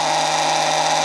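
A grinder running steadily on power from an Anker SOLIX C1000 portable power station, giving a close, constant whirring hum with a bright high whine, loud and unbroken.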